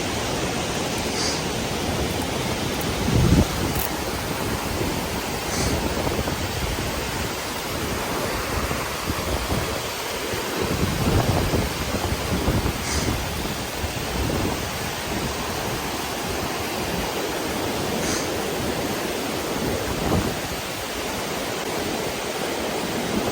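A giant waterfall pours among rocky crags in the wild, a steady, loud, broadband roar that fills the scene without pause, with no voices.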